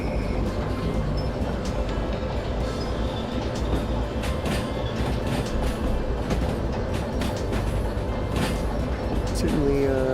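A DE6 diesel locomotive in the game Derail Valley hauls a long train, its steady engine rumble and rolling wheel noise continuous throughout while someone talks over it.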